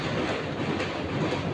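Sampark Kranti express crosses the Krishna river railway bridge, a dense steady rumble and clatter of wheels heard from on board, with no voices.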